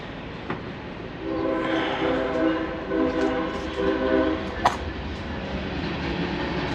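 A train goes by at a distance, its horn blaring in a few sustained blasts with rumbling rail noise underneath, heard from inside a garage.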